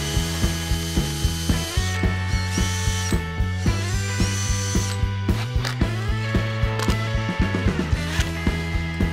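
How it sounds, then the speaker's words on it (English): A drill driving a self-centering bit to mount drawer slides on a wooden storage box gives a loud, rapid ratcheting clatter with a steady motor whine, pitch shifting as the bit bites, continuous throughout. "I use Rockler's self-centering drill bits to install the drawer slides and hinges."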